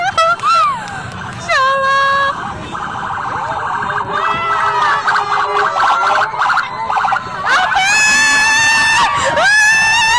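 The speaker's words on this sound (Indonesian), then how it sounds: "Mereka betul-betul berteriak histeris dan sambil menangis" A huge crowd of thousands gathered to welcome someone screams hysterically and cries, a loud wall of high, wailing young voices that rise and fall continuously, with siren-like pitch sweeps and a loud surge near the end.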